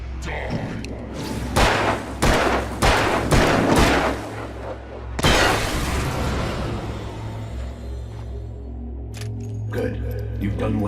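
Gunshots in the video game Alan Wake: a run of loud, sharp reports in quick succession, then a heavier boom that trails off into rumbling ambience over a low drone.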